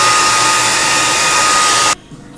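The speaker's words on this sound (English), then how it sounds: "when you're blow drying your hair" Hair dryer blowing on natural hair, a loud, steady, close whoosh that cuts off abruptly near the end, leaving quiet room sound.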